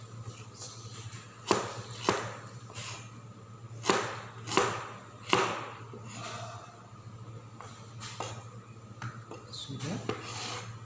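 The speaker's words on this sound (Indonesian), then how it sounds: "Jahe sama lengkuas kita potong-potong." A knife chops ginger and galangal on a wooden board for beef rendang, with irregular sharp thuds spaced a second or more apart over a steady low kitchen hum.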